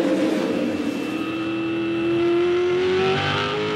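2007 V8 Supercars race cars braking into turn 1 at Hidden Valley Raceway, with a loud, steady engine drone whose pitch glides slowly downward as the cars slow, running continuously with no talk.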